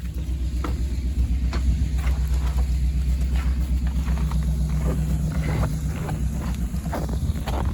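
A car engine idles steadily through a snowstorm, a low continuous rumble with wind buffeting the microphone throughout and no talk.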